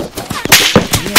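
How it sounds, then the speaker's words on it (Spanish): Gunfire in the Arma 3 military game, several sharp broadband shots cracking in quick succession at close range, with no voices over them. "Voy a disparar."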